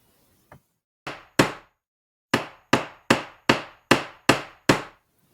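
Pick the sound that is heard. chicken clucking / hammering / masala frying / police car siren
hammering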